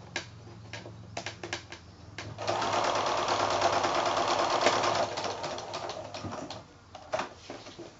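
A sewing machine stitches binding onto a quilted placemat, with short bursts of stitching and a long steady run in the middle before it slows to brief taps near the end.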